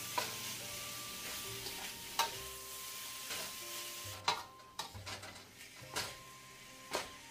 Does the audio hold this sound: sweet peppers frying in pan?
yes